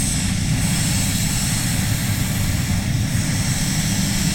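A SATAjet spray gun lays candy paint onto a car roof with pressure turned down, giving a steady, loud, unbroken hiss and airy rush with a low rumble beneath, close by and with no voices.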